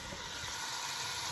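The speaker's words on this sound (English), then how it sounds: "just sizzling away now" Steady, bright hiss of chicken frying in a hot pan, continuous and close, with no voices.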